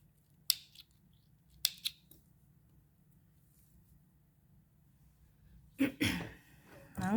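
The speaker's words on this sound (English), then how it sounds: "I'm going to cut it off" Scissors snip thread at a knot in a lace flower, giving a few brief, crisp close cuts spaced apart over a faint low hum, followed by quiet handling noises near the end.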